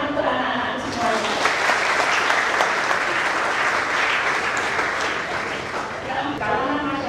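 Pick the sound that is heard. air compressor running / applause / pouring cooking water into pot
applause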